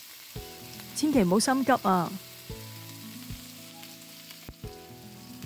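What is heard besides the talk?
cowfish frying in a wok over medium-low heat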